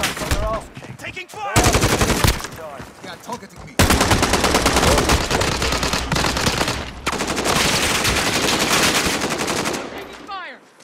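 Automatic gunfire in Call of Duty: Modern Warfare, loud, dense bursts of rapid shots filling most of the stretch with short gaps between volleys and a sudden stop near the end.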